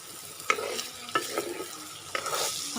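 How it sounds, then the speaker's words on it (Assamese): Broiler chicken fries with turmeric and salt while being stirred, so a crackling sizzle is cut by three distinct scraping strokes of a spoon across the pan, close and clear. "এতিয়া মই ধুনীয়াকৈ এইখিনি হালধি আৰু নিমখখিনি মাংসৰ লগত ভাজি দিম, ভালদৰে আৰু মিহলাই ল'ব লাগিব।"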